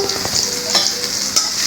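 Chopped onion fries in hot oil in a wok while being stirred, a loud close sizzle broken by quick scraping strokes, with no voices.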